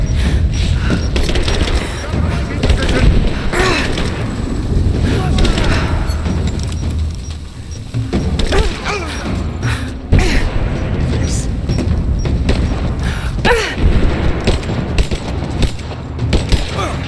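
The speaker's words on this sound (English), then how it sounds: "Throwing a grenade!" Grenade blasts and rapid gunfire from Rise of the Tomb Raider, dense booms and bursts of shots filling the scene almost continuously, with voices calling out over the combat.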